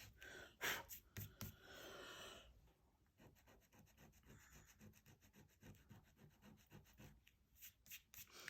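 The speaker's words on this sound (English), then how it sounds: "So I'm going to use my little mono eraser." A small mono eraser rubs ink off a paper card in short, quiet back-and-forth strokes, soft scrubbing with brief pauses, close and alone.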